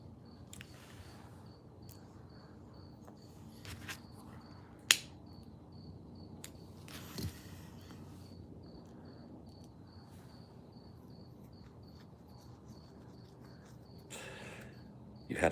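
Crickets chirp steadily at night in a quiet outdoor setting, a thin, high, regular trill running through the whole stretch, with a few faint clicks and soft knocks scattered in the background.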